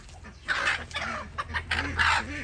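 A four-year-old Kerala country hen clucks close by in a run of short, rising calls and soft throaty notes, moderately loud against a quiet yard background.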